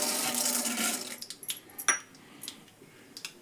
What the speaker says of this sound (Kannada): ಈಗ ಸಾಸಿವೆ ಹಾಕ್ತೀನಿ ನೋಡ್ರಿ.